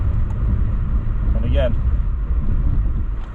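An Acura TLX Type S makes a hard panic stop on a snowy downhill, ABS engaged, with a steady low rumble of tires and cabin noise throughout and someone speaking briefly over it.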